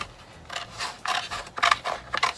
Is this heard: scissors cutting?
yes